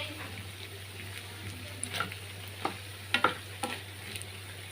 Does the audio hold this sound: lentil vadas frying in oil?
yes